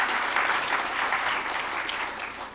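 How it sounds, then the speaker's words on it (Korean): Steady audience applause fills a conference hall at a Korea-US alliance gala event, dense and continuous clapping from a large crowd, loud and sustained with no speech over it. "큰 박수 부탁드립니다"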